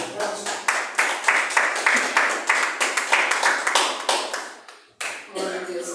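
A church congregation claps in a burst of quick, close, sharp handclaps that run steadily, break off briefly near the end, then resume.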